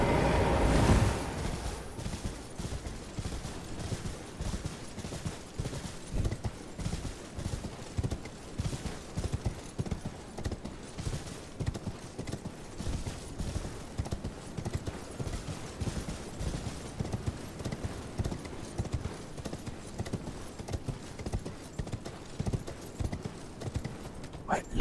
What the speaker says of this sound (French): j'ai peur que le son du cheval ne soit pas relaxant